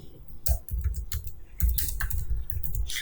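Typing on a computer keyboard while writing JavaScript code, with steady clicking keystrokes in quick bursts and short pauses, close and moderately loud, no talking.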